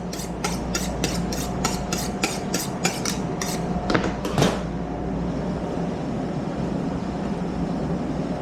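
A sharp knife cuts through cooked beef tongue in a restaurant kitchen, with a quick, even run of about a dozen rasping strokes followed by a few heavier cuts against a steady background hum.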